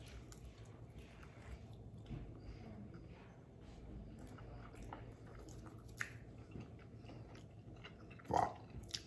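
Someone chewing smoked beef plate ribs, soft wet mouth sounds and smacks up close against a steady low background hum, with a brief louder squishy bite near the end.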